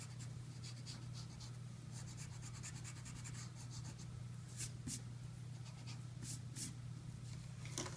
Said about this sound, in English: go ahead and erase those semicircles